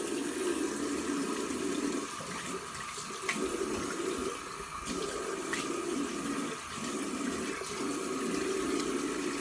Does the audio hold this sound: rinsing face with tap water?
yes